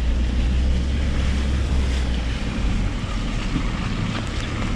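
A Renault Sandero driving off-road through puddles gives a continuous loud, rushing roar of engine and water spray with heavy low rumble and no voices.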